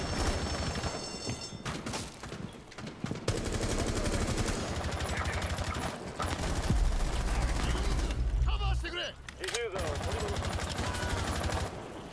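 Rapid bursts of automatic gunfire in the tactical shooter Rainbow Six Siege, dense and loud for most of the stretch, with short pauses and a heavier thump near the middle, under in-game sounds and players talking.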